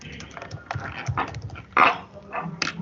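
Typing code on a computer keyboard during a React JS coding lesson, a series of irregular close key clicks and taps with a louder clack partway through.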